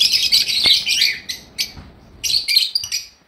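Lovebirds chirp in rapid, high-pitched bursts close by, with a few brief pauses between flurries of twittering.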